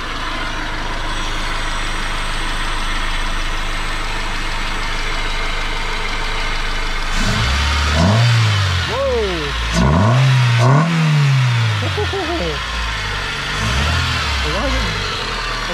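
A Honda Civic wagon engine with real-time four-wheel drive idles steadily, then is blipped on the throttle several times, each rev rising and falling close by, with a voice speaking between the revs.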